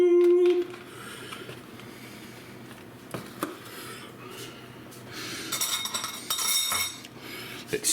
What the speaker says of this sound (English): Let's stir this cheese in a little bit so it melts into the broth.